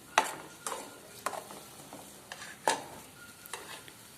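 Ground spice paste frying and being stirred in a pan for a fish curry, with a steady soft sizzle and scattered scraping clicks from the spoon.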